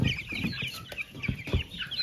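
A brown crested hen clucks in a farmyard, a run of short, close clucks in an uneven rhythm with no talking.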